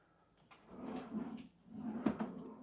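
A soft-close kitchen drawer in a tiny-house kitchen closes in two smooth, gliding pushes that settle gently, with no hard bang. It is close and moderately quiet.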